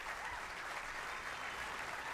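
Steady audience applause at a televised bowling match between Kelly Kulick and Chris Barnes, a dense even wash of clapping that holds at a moderate level for two seconds with no break.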